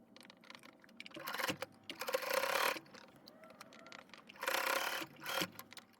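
A sewing machine runs a top stitch along the seam of a pair of pants, in two loud bursts of rapid whirring stitching separated by quieter pauses, close up with no talk.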